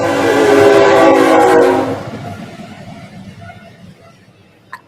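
A train blasts its loud, sustained horn up close as it goes by, then fades into rumbling rail noise and a brief click near the end.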